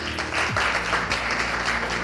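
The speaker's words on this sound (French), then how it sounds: "On l'applaudit très fort." An audience at a young leaders' event claps steadily for a dancer, a sustained crowd applause with a brief low vocal sound near the start.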